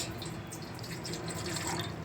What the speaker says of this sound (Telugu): ఇందులో 150 ml వాటర్ పోసుకోవాలి.